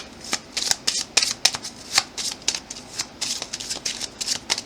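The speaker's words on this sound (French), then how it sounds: "ça se mélange bien parce que ce sont des cartes plastifiées" Laminated plastic cards being shuffled by hand, a rapid series of crisp slapping riffles close up, in quick irregular bursts with no talk over them.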